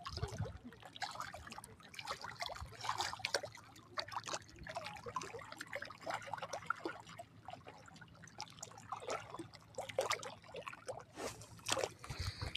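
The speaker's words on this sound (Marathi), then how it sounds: "हे पहा पाणी कसं उड्या मारतं" Water splashes and trickles softly and continuously outdoors after rain, a faint bubbling flow with small irregular spatters.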